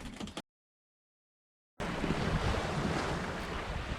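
Wind and waves at sea aboard a sailboat, a steady broad roar of gusting wind and surf close to the microphone, cut by a stretch of total silence before returning strongly.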